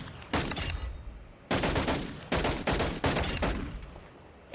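Game gunfire from Call of Duty Modern Warfare II, with a pistol in use: four or five loud, sharp bursts of shots in quick rapid runs, each cutting off into a brief decaying tail, heard alone with no talk.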